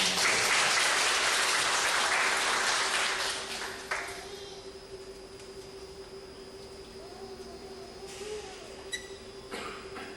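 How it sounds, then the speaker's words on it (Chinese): At a catering-group training camp, an audience breaks into loud, dense applause to welcome a speaker. The clapping holds for about three seconds, then fades into quieter room noise with a faint steady hum and a few scattered claps. "我们就掌声欢迎他来"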